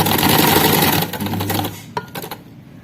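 A sewing machine stitching a kameez runs in a fast, steady whir, loud and close, then slows and stutters into a few short bursts as the stitching is moved forward.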